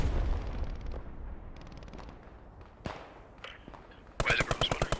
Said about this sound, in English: Artillery FX and all sorts